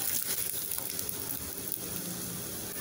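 Masala spices frying in oil in a pan for Tamil fish kulambu, giving a steady close sizzle throughout with faint stirring.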